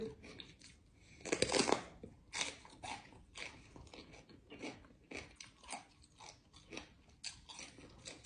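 Crispy food bitten and chewed close up, a loud crunchy bite early on followed by a steady series of crackling chews.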